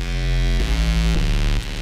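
A heavy, buzzing distorted synth sub bass from the Xfer Records Serum synthesizer holds low notes, shifting pitch three times in quick succession, loud and alone.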